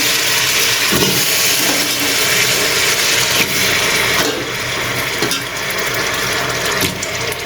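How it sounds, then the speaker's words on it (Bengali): Large stinging catfish are scrubbed clean under running water, splashing and scraping close by with irregular clicks and knocks from handling, loud and continuous for several seconds. "শিং মাছগুলো বড় বড় ছিল আর সুন্দর করে আমি পরিষ্কার করছি।"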